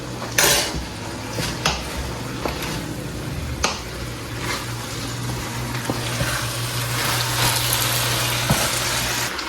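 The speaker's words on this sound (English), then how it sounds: "So bit by bit we add it and we stir." Rice going bit by bit into a pot and being stirred for Nigerian fried rice, with repeated metallic clanks and scrapes of a spoon against the pot over a steady low hum and faint sizzle, no talking.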